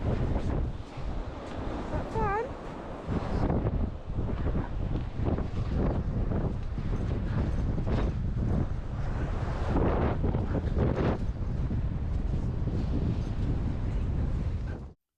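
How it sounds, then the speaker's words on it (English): Strong gusts on a beach roar and buffet the microphone continuously, with a low rumble of surf beneath and a brief high chirp early on. "You can hear how windy it was in that clip, and Fairy was very excited"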